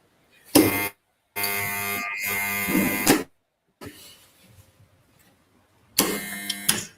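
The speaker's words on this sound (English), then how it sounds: "Jimmy Jolocon, please test your buzzer." Quiz contest buzzer tested at a school quiz match between two schools, sounding three loud harsh electric buzzes, each lasting about half a second to two seconds, with silent gaps between and faint background noise in one pause.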